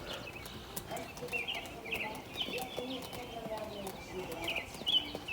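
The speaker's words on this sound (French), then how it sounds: "C'est beau le son des oiseaux" Birds chirp and sing in short scattered phrases at about 7 a.m. in mid-May against a quiet outdoor background, with faint thumps and a voice now and then.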